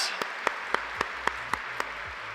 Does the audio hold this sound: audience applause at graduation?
yes